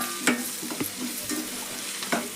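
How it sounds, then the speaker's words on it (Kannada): Potato curry ingredients fry in hot oil with a steady close sizzle, broken by several sharp spatula scrapes and stirring clatters, with no talking. "ಇದನ್ನು ಎಲ್ಲ ಫ್ರೈ ಮಾಡೋಣ್ರಿ ಎಣ್ಣೆ ಒಳಗೆ"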